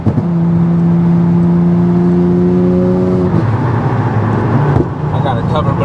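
A tuned 400 hp Infiniti G37 engine heard from inside the car, its drone climbing steadily in pitch as it accelerates, then dropping and settling, loud and close with voices talking over it.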